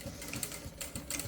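A sewing machine runs a backstitch along the double hem of a loose dress, its quick needle clatter steady and fairly quiet, with short pauses and bursts across the brief stretch.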